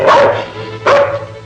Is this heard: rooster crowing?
no